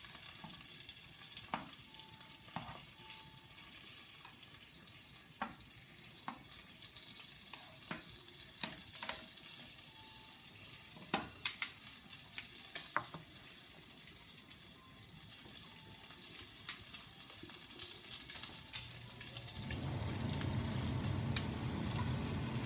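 Meat sizzles in a pan as its fat renders, a soft steady frying hiss with scattered clicks of stirring, fairly faint, swelling into a louder rush near the end.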